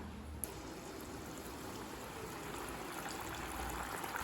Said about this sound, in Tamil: இப்போ இது நம்ம எண்ணெயில் போட்டு பொரிக்க ஆரம்பிச்சிடலாம்.